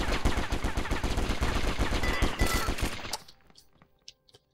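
Dense, continuous rapid gunfire in the War Brokers video game battle royale mode, loud overlapping shots for about three seconds before cutting off to a few faint scattered sounds.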